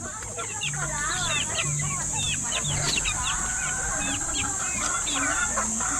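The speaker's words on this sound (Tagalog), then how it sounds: "Ito yung mga running for 1 month natin na mga sisiw, mga chikiting." Month-old chicks on a farm chirping in many overlapping high peeps, close and continuous, over a steady background hiss, with someone talking at times.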